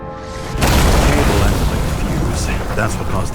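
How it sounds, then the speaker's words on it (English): A deep, rumbling boom from a flooded transformer exploding in the video game Nobody Wants to Die, a loud burst that rolls into a sustained roar and crackle. "That's what caused the explosion."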